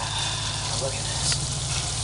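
Bacon and caramelized apples fry in a pan, giving a steady, close crackling sizzle over a constant low hum for a couple of seconds.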